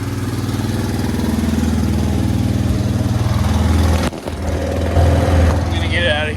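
A four-wheeler ATV engine runs loud and close after being submerged underwater, a steady chugging idle with a brief dip and a slight surge in revs near the end.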